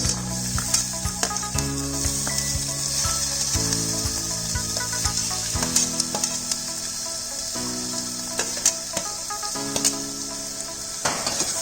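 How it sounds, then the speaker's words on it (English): Chopped onion, garlic and vegetables sizzle and fry in a pan, with a steady hiss and occasional clinks as they are stirred, and music plays underneath. "Just saute for a minute"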